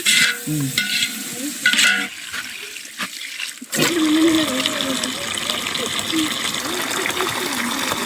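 Chicken coated in masala powder is stirred in a pan for peri peri mandhi, with scraping and sizzling close by that grow louder after a short lull, while a person talks over parts of it.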